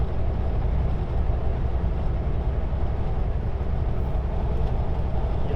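A freight train rumbles past on the rails near Kamloops, British Columbia, giving a steady, heavy low roar that holds at close range without a break.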